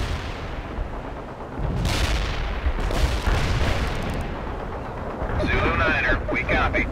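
Artillery fire for effect in the war strategy game World in Conflict, a thick rumbling barrage that swells into heavier blasts midway, then gives way to sharper crackling impacts near the end.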